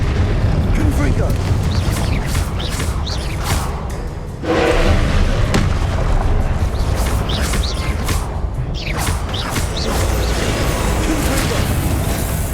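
Confringo blasting-spell explosions in the Hogwarts Legacy video game, repeated heavy booms and bursts over a dense battle din, loud and close, with a voice speaking over the clashes.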